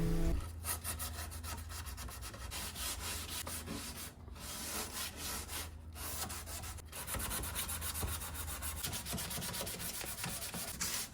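Steady, scratchy sanding on old varnished wood, a continuous rough rubbing with a few brief pauses, close and fairly quiet.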